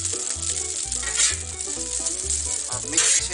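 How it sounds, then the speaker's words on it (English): A pork loin sizzles in butter on a Blackstone griddle, with a steady close frying hiss and rhythmic low thumps and scrapes as the meat is worked. "All I want to do with this is brown it a little bit. I've got it in that butter."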